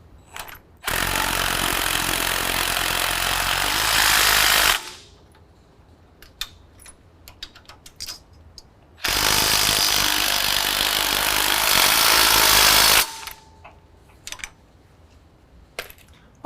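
Coilover lift kit bolts on a 2019 GMC Sierra 1500 are tightened during a Fabtech 6-inch lift install, heard as two loud, harsh tool bursts of about four seconds each, with quieter clinks and metallic taps in the pauses between them.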